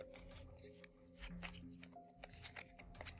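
Quiet riffling and flicking of the Dark Souls board game's behavior cards being shuffled, soft rapid crisp taps over a faint background hum.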